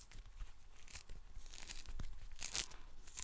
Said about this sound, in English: Now it's time to peel the orange.